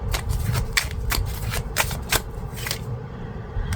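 Tarot cards shuffled by hand up close, a loud, continuous papery riffle with quick rhythmic snaps and flutters, no voices.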